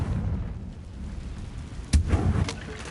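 Confringo explosive spell blast in a Hogwarts video game: a sharp burst near the two-second mark with a boomy rumbling tail over steady low game ambience.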